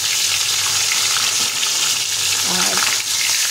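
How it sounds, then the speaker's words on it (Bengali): A hilsa fish head fries in hot oil, a dense, steady, close sizzle that keeps going without a break, with a faint voice murmuring briefly beneath it. "তেলের মধ্যে মাথাটা ছেড়ে দিলাম,"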